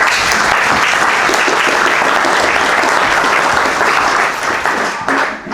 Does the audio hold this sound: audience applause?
yes